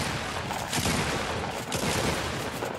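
Dense, rapid bursts of gunfire from a video game, loud and continuous with overlapping shots throughout.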